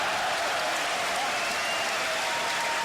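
Crowd at a table tennis match between Wang Hao and Dimitrij Ovtcharov breaking into steady, dense applause, a continuous wash of clapping hands that stays fairly even and distant for the whole stretch.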